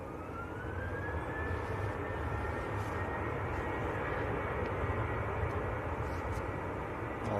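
A jet airliner roars steadily at Manchester Airport, a loud continuous engine rumble with a slowly sliding whine, heard throughout with no pauses.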